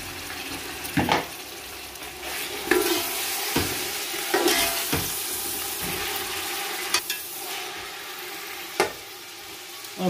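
Chicken frying with onions in a pot for biryani, a low sizzle broken by repeated scraping stirs and clanks of a spoon against the pot.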